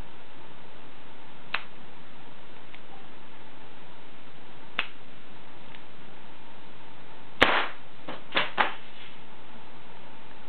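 A homemade one-shot pistol fires a single sharp crack, followed by a few smaller clicks and knocks, heard against a quiet hiss with a couple of faint ticks earlier.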